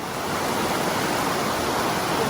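Stream water rushes at the Liberty Springs trail crossing, a loud, steady, close wash of flowing water with no other sounds over it.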